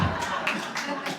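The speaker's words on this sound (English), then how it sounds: "You can applaud that if you want." Live audience at a book event for a former vice president claps in a brief burst of applause, dense and fairly close, with a few pulsing swells over about a second.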